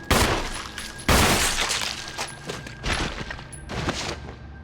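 Resident Evil 1 HD gunfire: loud, close shots crack out in quick succession, each trailing off into a rattling, echoing decay.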